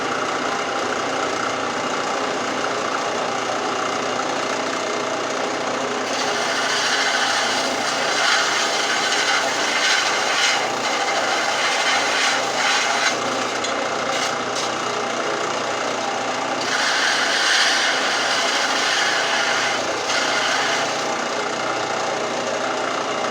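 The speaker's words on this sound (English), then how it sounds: "So I'm going to turn the grinder on. You won't be able to hear me for a second" A grinder working on small metal forged rings, grinding down a solder seam, runs as a steady loud rasping whir, close up, with the tone shifting as pressure changes, and no talk.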